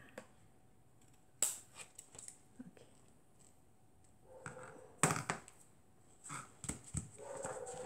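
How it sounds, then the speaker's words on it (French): Scissors snip away excess paper in a craft project, giving a few sharp, scattered cuts and rustles at close range in a quiet room, with no one speaking. "Je coupe le surplus."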